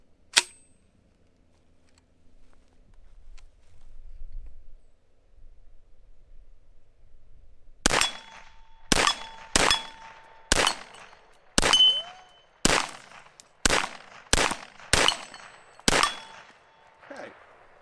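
A Foxtrot Mike FM45 rifle, a 10-inch upper build, fires about ten sharp, loud shots in an uneven sequence after several seconds of near quiet, each crack ringing briefly.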